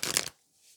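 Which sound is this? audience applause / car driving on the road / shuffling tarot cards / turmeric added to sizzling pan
shuffling tarot cards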